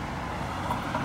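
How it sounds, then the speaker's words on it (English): A bus pulls up at a bus stop with a low idling engine rumble and faint traffic noise, steady and close, over a brief moment. "Bus driver thinks I want a bus."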